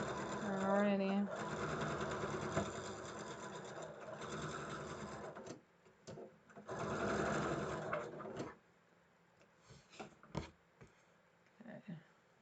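A sewing machine stitches the last seam of a quilt block in bursts of fast, steady whirring, stopping and restarting, with a few soft clicks in the pauses and a voice speaking briefly near the start.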